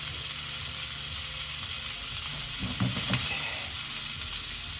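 Onions fry in a pan with a steady, close sizzle, and a few brief stirring scrapes rise near the end.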